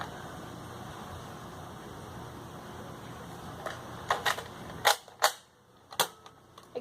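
Steady hiss gives way to a series of sharp mechanical clicks and snaps as a Nerf blaster is cocked and fired, close and crisp, with quiet gaps between.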